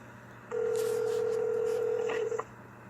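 A steady telephone tone sounds on a phone line while a call is placed to a governor's office. It holds evenly for about two seconds, then a few short blips follow before it stops.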